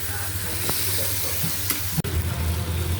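Tomatoes frying and simmering in a pan with boal fish, giving a loud, close, continuous sizzle with a sharp scrape or knock near the end.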